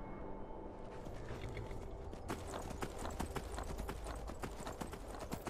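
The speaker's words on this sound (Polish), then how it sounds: "Mamy kunia to. Galupujemy co nieco." Horse galloping in Skyrim Special Edition, rapid clip-clop hoofbeats that start as a soft trot and pick up into a steady fast rhythm, fairly quiet.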